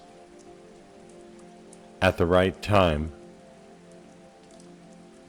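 Steady rain patters on a surface throughout, a soft continuous wash that sits under a calm narrator's brief spoken phrase midway.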